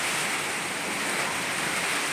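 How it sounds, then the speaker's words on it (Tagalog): Strong storm wind gusting across a rooftop during a Signal No. 2 typhoon, a steady loud broadband roar with no break or voice throughout. "Ang lakas ng hampas ng hangin dito."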